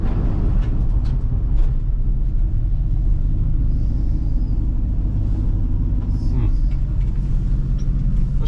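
An old Chevrolet 350 V8 idles in a 1979 Chevrolet C10 truck, a loud steady low rumble that runs throughout, with faint talk at times.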